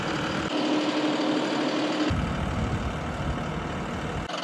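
A big John Deere tractor's engine rumbles and idles while being driven up onto a trailer on a small hay farm, a heavy, continuous low drone that shifts in tone partway through, with no talking.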